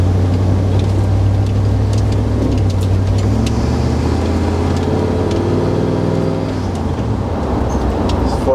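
A 1978 Ford F250 4x4 truck with a 460 engine drives along, its loud low engine drone and road noise steady inside the cab, the engine pitch shifting as it changes speed.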